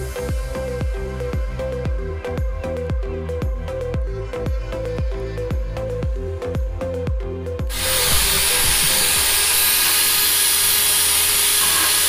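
A DA sander works the flat surfaces of a wall art piece, first in a rhythmic series of quick repeated strokes, then switching to a loud, steady, continuous whirring hiss up close.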